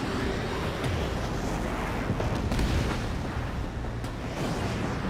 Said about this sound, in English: Page 2, missile launch.